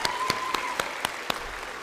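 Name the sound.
audience applause at a school program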